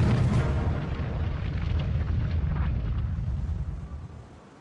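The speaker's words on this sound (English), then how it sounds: "A single torpedo strikes the rear of the ship." A torpedo explosion strikes the stern of the battleship Bismarck as one deep, rumbling blast. The boom stays dense and loud, rolls on for several seconds, then fades away.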